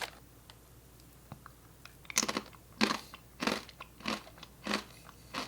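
Someone chews a jam-and-cracker snack up close, with crisp crunches that start sparse and turn into a steady run of loud crackly chews, with no talking.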